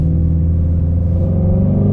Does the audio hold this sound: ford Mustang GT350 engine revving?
yes